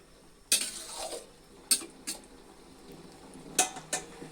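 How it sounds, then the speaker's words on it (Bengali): Fried fish is being mixed into a simmering curry in a pot, heard as a few separate clanks and scrapes of a spoon against the vessel over a faint, quiet background. "মাছগুলো ঝোলের মধ্যে এভাবে মিশিয়ে নিব।"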